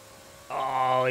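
A car launches off the line at full boost in Forza Horizon 4, the engine abruptly roaring up from quiet idle into a loud, rising harmonic wail that keeps climbing.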